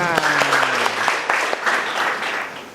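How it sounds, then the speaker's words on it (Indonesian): A classroom of children clapping together in quick, uneven bursts, close and lively, with a brief voice or tone early on before the clapping carries on alone. "mari kita tepuk tangan untuk kita semua"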